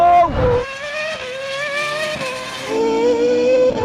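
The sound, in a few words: Formula One car racing past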